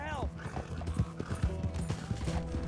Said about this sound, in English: My horse does not corner well.